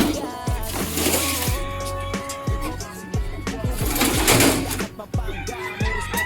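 Racing pigeons arrive at the loft during a club race, with cooing and fluttering mixed into a busy, layered background and an occasional voice in the mix.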